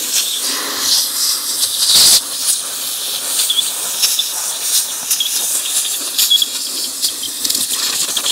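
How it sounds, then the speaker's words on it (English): An air nozzle blows dirt off a beadlock wheel on a Can-Am Renegade XXC 1000R ATV with Maxxis Bighorn tires. The hiss is loud, steady and close, with brief surges and no voices. "What I'll probably do is get some air and blow some of that out of there."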